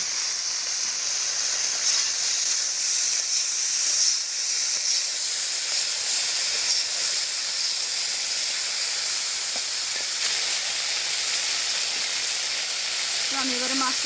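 Steam hisses steadily from a village cooking pot in Bangladesh, holding green chillies and garlic, after the lid comes off: a broad, constant close hiss lasting the whole stretch, with a faint clink near the end.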